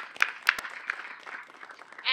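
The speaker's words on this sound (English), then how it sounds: "Get one more round of applause for all of our speakers this morning." Scattered audience applause for the speakers at an outdoor dedication ceremony for memorial stepping stones, a few sharp claps over a soft, thin patter, with a voice or noise rising at the end.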